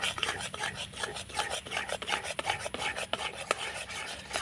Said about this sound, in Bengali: তো তালে কাঠটাকে নাড়াচাড়া করে গরম করে নিয়েছি